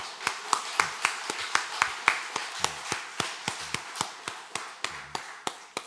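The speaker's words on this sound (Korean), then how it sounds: "우리 하나님께 영광의 박수 한번 드릴게요" A church congregation claps in unison, sharp claps repeating at a brisk, steady beat of about three to four per second in a reverberant room.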